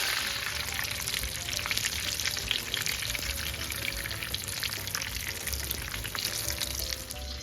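Tonkatsu deep-frying in oil heated to 170–180 degrees over high heat, a loud, dense and steady bubbling sizzle that runs continuously throughout with no talking.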